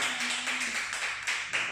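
Audience applause at a corporate group event, a small scattering of hand claps in an uneven rhythm, fairly close, with a brief hum at the start.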